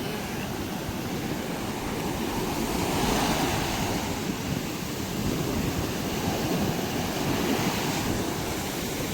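Rough sea waves wash and break steadily as wind buffets the microphone, a dense continuous roar of surf near a fishing boat, loud and unbroken throughout.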